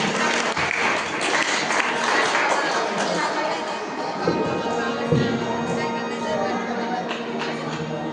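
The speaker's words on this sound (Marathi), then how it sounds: "एकदा जोरदार टाळ्या वाजवा त्यासाठी." A crowd claps loudly and continuously, a dense patter of many hands that fills the whole stretch without a break.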